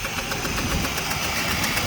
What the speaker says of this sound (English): Sounds like you got an exhaust leak pretty bad back here.